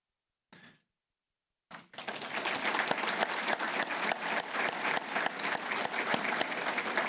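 Applause from a seated audience at a public safety awards ceremony for a life saving award honoree, a brief clap then sustained steady clapping, moderately close and filling the room.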